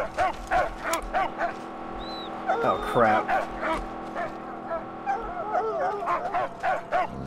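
Dog barks and yips in the Mad Max video game, several short repeated barks scattered across the scene over game sounds, with someone speaking briefly.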